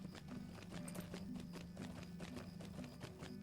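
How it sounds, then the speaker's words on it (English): Horse hooves from the Lord of the Rings Online game, a steady rapid clip-clop of a ridden horse in a quick, even rhythm, faint and continuous throughout. "I'm going to go ahead and call my horse again"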